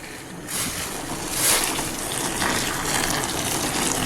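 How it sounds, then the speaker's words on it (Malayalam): Hot sugar syrup is poured over fried gulab jamun, a steady close gushing liquid stream that holds for several seconds without a break. "നമുക്കിനി ഇത് ഫ്രൈ ചെയ്ത് വെച്ചിരിക്കുന്ന നമ്മുടെ ഗുലാബിലേക്ക് ഇട്ട് കൊടുക്കാം ഒഴിച്ചു കൊടുക്കാം"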